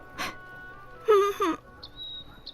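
A child cries in a radio drama, with a short sob, then a louder wavering wail, then faint high whimpers trailing off in a quiet setting.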